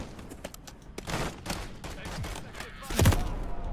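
Gunfire from a BAS-B rifle in Call of Duty MW3, sharp shots in bursts over about four seconds with one louder report near the end, a voice talking underneath.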